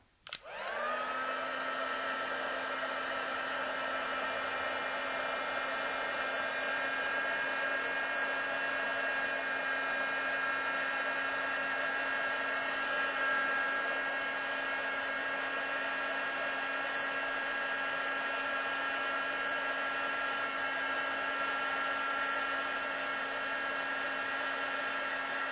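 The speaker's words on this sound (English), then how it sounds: "Takes a little while to heat emboss this because it's quite a large area" Heat embossing tool blowing hot air onto a large stamped area of a card, a steady high whirring drone that switches on abruptly and holds evenly for the whole stretch, no talking.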